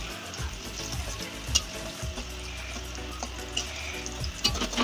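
Potatoes frying until reddish in a pan for a vegetarian dhoka dish, with a steady low sizzle and a few sharp clinks and scrapes of a utensil against the pan.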